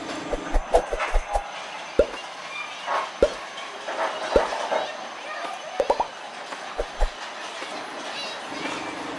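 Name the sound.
old lorry locomotive running on rail line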